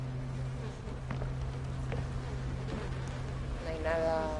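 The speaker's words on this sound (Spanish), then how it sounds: "Suenan moscas." Flies buzz faintly in a video game scene, a thin wavering drone over a steady low ambient hum with soft scattered taps, and a brief higher whine rising near the end.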